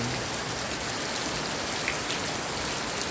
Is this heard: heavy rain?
yes